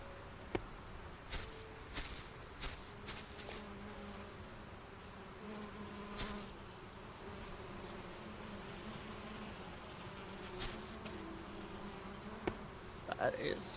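Bees buzz around beehives in the sky-island crafting game Solarpunk, a soft continuous insect hum, faint and steady, with occasional small clicks.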